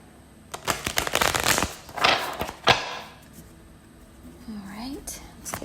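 A tarot deck is shuffled by hand in a few quick papery bursts of riffling and rustling over the first three seconds. Quieter handling noise and a soft voice follow.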